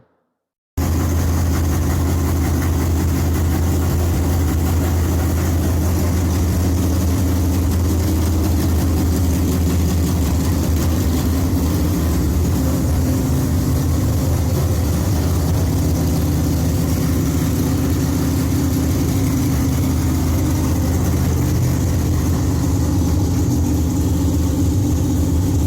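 The Mopar Miss Belvedere's engine runs after starting following repairs, a loud, continuous, low rumbling idle with steady mechanical clatter, close by and alone for the whole stretch.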